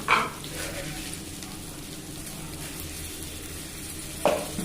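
Potatoes frying in oil for a potato curry, a continuous close sizzle with short bright scraping bursts at the start and near the end.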